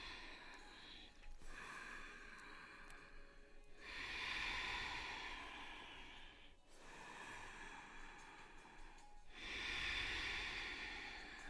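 During a yoga session, slow, deep breaths rise and fall in long cycles, each inhale and exhale a soft, airy hiss close to the microphone, with no talking.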